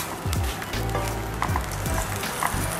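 Ham sizzles steadily in a pan with a little oil and a spoonful of butter, a loud continuous crackle with occasional scraping knocks, with no talking.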